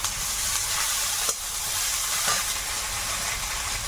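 Onion, garlic and ginger sizzle steadily in hot oil in a pan, a close, continuous frying hiss with a few brief stirring knocks and no voices.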